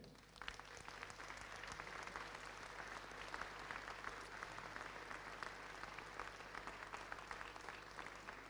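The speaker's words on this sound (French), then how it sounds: "je veux d'abord vous demander d'applaudir Monsieur le Préfet" An indoor audience at a town hall New Year's greetings ceremony in Saint-Maur claps steadily and evenly throughout, a dense sustained round of applause with no voices over it.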